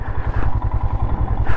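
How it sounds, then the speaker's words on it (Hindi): A motorcycle labors along a rough shortcut trail on a Leh-Ladakh trip near Kargil and Batalik, its engine thudding in a steady, close, loud rhythm with clattering from the bumpy ground and no talk. "यहाँ से बाइक निकल नहीं रही है"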